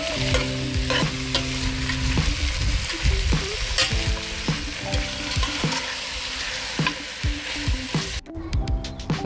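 Lamb pieces for a mutton bunny chow fry loudly in a pot, a dense close sizzle with frequent stirring clanks and scrapes, ending in a sudden drop near the finish.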